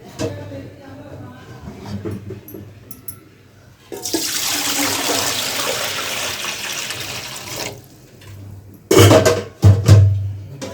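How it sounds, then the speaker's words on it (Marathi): Water is poured into a momo steamer pot while steaming taro leaf rolls in a home kitchen, a steady splashing rush lasting several seconds, followed by a few clunks and knocks of the pot. "आणि आपण त्यात पाणी टाकू"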